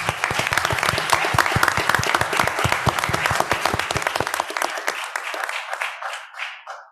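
A city council chamber in Miami Gardens fills with a round of applause for Vernita, many hands clapping densely and loudly before thinning to a few last claps and fading out.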